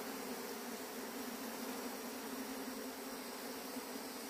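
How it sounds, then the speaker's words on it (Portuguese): Honeybees hum at the entrance of a hive during a smoke-assisted rescue, making a steady, dense buzz with a constant hiss, close and unbroken throughout with no voices. "até as abelhas aí se comunicando para entrar lá"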